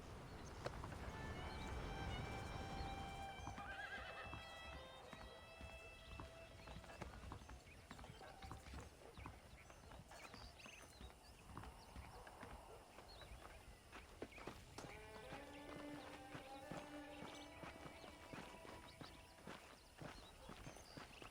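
Horses in the Western video game Red Dead Redemption: hooves clip-clop steadily at a walking pace throughout, with an occasional neigh. Scattered game tones sit over the hoofbeats, which stay faint and distant.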